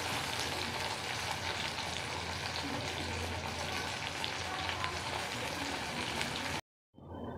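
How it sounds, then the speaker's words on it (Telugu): Mushrooms fry lightly in oil in a pan, giving a steady close crackling sizzle that runs unbroken before cutting off abruptly near the end. "ఇప్పుడు మనం దీంట్లో మష్రూమ్స్ వేయించుకొని వేసుకొని వేయించుకుందాము కొంచెం లైట్గా మష్రూమ్ వేగేంత వరకు దీన్ని మనం వేయించుకుందాం"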